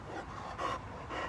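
A dog pants quickly and softly up close, short rhythmic breaths repeating in a quiet room.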